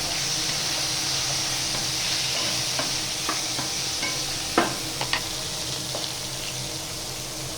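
Pumpkin pieces seasoned with salt and turmeric fry in a pan over a piped-gas stove, giving a steady broad sizzle with occasional sharp pops and scraping stir clicks, close by and with no talk.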